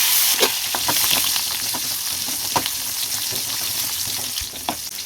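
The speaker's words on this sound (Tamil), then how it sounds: "இப்போ நான் கொஞ்சம் வெங்காயத்தை எடுத்துருக்கேன் அதை இதில் சேர்த்து வதக்கிடுவோம்" Onion sautéing in a pan where appalam was just fried, for a chutney: a steady, loud oily sizzle with a few soft stirring scrapes, close up and without speech.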